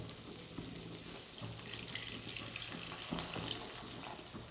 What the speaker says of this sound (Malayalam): ഒരു അര ഗ്ലാസ് വെള്ളം ഒഴിക്കുക